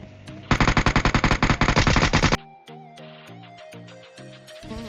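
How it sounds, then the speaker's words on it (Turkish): M16 rifle fire in PUBG, a rapid burst of about twenty loud, evenly spaced automatic shots lasting nearly two seconds, followed by quieter game sounds with no talking. "Kimsə M16 ilə atır."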